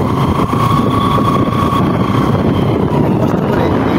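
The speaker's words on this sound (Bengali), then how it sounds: "ঘাট পার হয়ে এই বালিয়ারির মধ্যে দিয়ে মোটরসাইকেল যোগে নদীর ওপারে যাওয়ার চেষ্টা করছি।" A motorcycle crosses hot riverbank sand beyond a ghat on the Kaljani river, its engine droning steadily under heavy wind buffeting throughout, with no talk.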